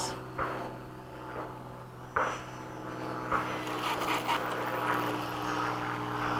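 A radio-controlled model jet aircraft, a Freewing 90mm ducted-fan F-15 or F-22, flies past as a steady distant rushing whine, with a few brief thumps and gusts of wind over it.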